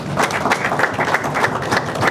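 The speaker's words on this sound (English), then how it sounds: "Today, their grace was applauded." Sustained applause at a Queensland community gathering honouring a grieving family, a dense steady patter of many hands clapping at even loudness throughout, with no voices above it.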